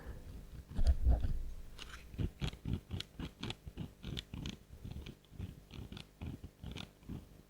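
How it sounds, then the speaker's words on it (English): The differential of an SNT Mix Go MG117 1/43 RWD RC touring car makes a gritty, crunching mechanical grind, repeating in quick uneven pulses at close range, like tight gears catching as they turn. "that's what the differential sounds like. It sounds pretty crunchy"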